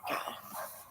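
A dog gives a single short, faint bark or yip, brief and slightly distant, with no other sounds around it.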